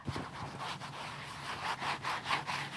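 Soft, scratchy rubbing of a thick fleece sweatshirt, repeated brushing strokes at close range with a slightly rhythmic rasp, no voices.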